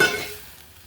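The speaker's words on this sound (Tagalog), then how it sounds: "Magigisa tayong bawang at sibuyas." Garlic and onion sauté in a hot pan for kare-kare, a short burst of sizzling that fades quickly, close and alone.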